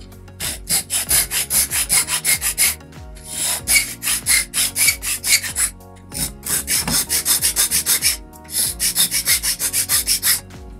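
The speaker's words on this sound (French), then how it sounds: "Si vous sentez encore des aspérités, vous repassez un petit coup de lime jusqu'au moment où c'est bon." A hand file rasps over a 3D-printed Voron 2.4 Z-axis motor mount part in quick rhythmic bursts of scraping strokes, grouped into several runs separated by short pauses, close and fairly loud.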